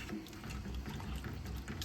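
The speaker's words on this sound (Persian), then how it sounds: "یک لیوان آب سرد اضافه میکنیم و با شعله خیلی کم اجازه میدیم تا مارمالادمون جا بیفته" Glass of cold water poured into a pot of onion marmalade, a soft continuous splashing pour, quiet and close, with no talk.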